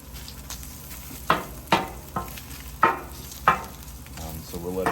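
Reheating pulled pork crackles and sizzles in a pan, with several sharp stirring scrapes standing out above a steady frying hiss; no one speaks.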